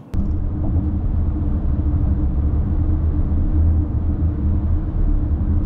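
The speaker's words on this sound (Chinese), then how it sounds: "就是这个轮胎声有一点吵" Tire and road noise inside a moving Chery Tiggo 7 Pro SUV with a 1.6-litre four-cylinder TGDI engine, heard as a steady, loud, low cabin rumble that holds unchanged throughout with no talking.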